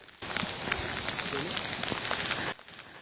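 Torrential rain at a landslide site in Wayanad, Kerala, a dense, loud hiss of downpour that starts abruptly, holds steady for about two seconds, then cuts off.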